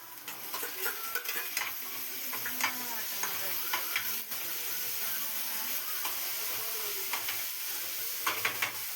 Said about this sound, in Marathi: टमाटरची चटणीला फोडणी देत आहे.